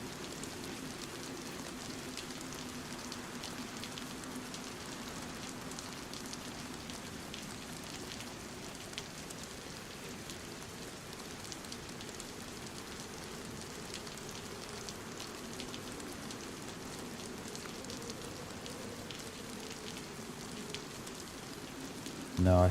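Steady rain falls in the video game DayZ, a continuous even wash of patter that stays at the same level throughout with no voices.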